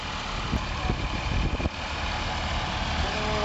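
A 160-horsepower Agri Master 1604 tractor with an AC cab runs steadily, a low continuous engine drone close by, even and unbroken with a brief louder patch of knocks near the middle.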